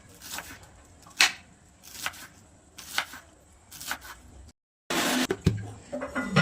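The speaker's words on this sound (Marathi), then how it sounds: "तर अशी बारीकशी कापून घ्यायची," Kitchen knife finely chopping green onion stalks on a board for brinjal parathas, heard as a series of close, sharp thuds in loose rhythm with a brief gap before a louder burst of cutting.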